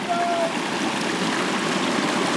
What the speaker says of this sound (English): This is the water that comes out of Sea Spring.